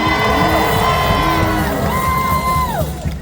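Large crowd at a mass-mobilization rally and march cheers loudly, with high whoops and shouts layered over a steady roar that holds throughout and fades slightly at the end.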